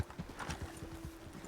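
Horse hooves clip-clop in a quick, slightly uneven rhythm in Red Dead Redemption 2, fairly faint, with a brief whinny-like tone partway through.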